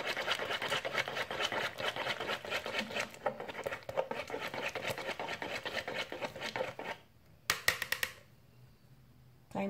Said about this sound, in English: And you whisk again, making sure they blend well.